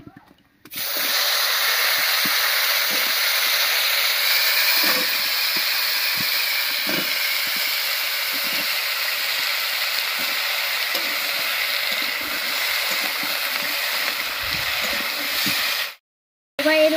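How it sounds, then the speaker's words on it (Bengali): Cut stalks and potatoes hit hot oil over a tempering of whole cumin and a bay leaf in a village-style kitchen, giving a loud, steady sizzling hiss that holds evenly for about fifteen seconds before cutting off. "এর উপরেই কেটে রাখা ডাটা আর আলুটা দেবো"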